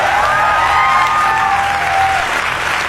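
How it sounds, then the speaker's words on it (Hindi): A large audience at a business gathering in India bursts into sustained, dense applause, steady and loud for about three seconds, with a faint tonal whistle or feedback line running across it and no talk. "एक बार जोरदार तालियां।"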